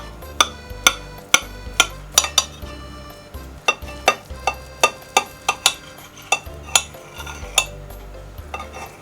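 A knife slices through a fluffy Western-style rolled omelette, dashimaki tamago, garnished with parsley, giving a run of sharp clicks and taps as the blade meets the board, with a soft low rumble beneath and no talk.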